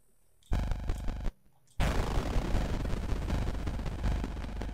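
Gunfire in the video game Mothmen 1966: a short run of repeated shots, a brief gap, then a loud sustained burst of noisy blasts continuing to the end.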